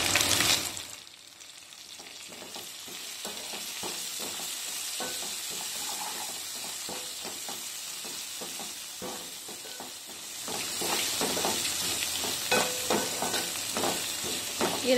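Ginger garlic paste and curry leaves frying with browned onions for a gongura dried prawn curry, a continuous close sizzle broken by repeated scraping stirs, swelling louder near the end.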